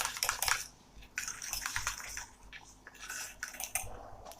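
A spoon scraping and clinking against a pan while stirring a dodha barfi mixture tinted with a pinch of red food colour, a series of bright metallic scrapes and taps in an uneven rhythm, close by with no talking.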